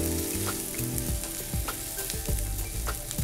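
Chopped ginger and garlic frying in oil in a pan while making Gobi Manchuria, a steady close sizzle with soft intermittent scraping and stirring strokes.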